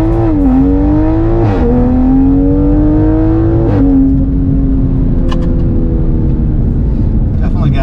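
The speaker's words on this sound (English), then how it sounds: "Definitely got some wheel spin there." A 2020 Toyota Supra launches hard from 0 to 60 with wheel spin, its engine revving loud and close, pitch climbing through gear changes in a steady in-cabin roar.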